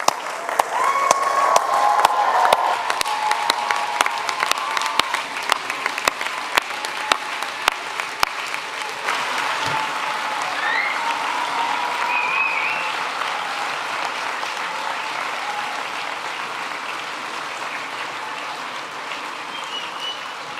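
Audience at a Brighton and Sussex Medical School graduation ceremony gives sustained, dense applause, loud at first with sharp individual claps close by, then slowly thinning into a steady wash of clapping.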